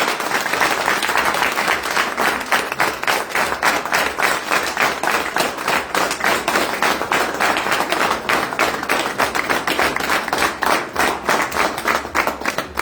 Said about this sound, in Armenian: բոլորս միասին ծափարել